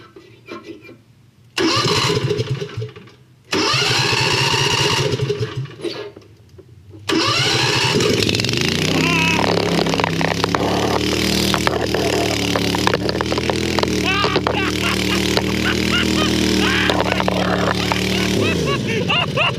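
A 670cc motorcycle engine, newly fitted, catches after a couple of short cranking attempts, then settles into a loud, steady run with a sustained rev near the recording, ending with a small throttle change.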